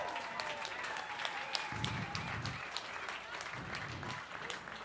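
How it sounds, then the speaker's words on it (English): An audience at a fundraising benefit gala breaks into applause for donors, with soft, distant clapping from a room crowd. "Would you give all those people a round of applause?"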